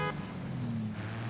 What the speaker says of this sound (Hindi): हाँ हॉर्न भी बजा रहा है भाई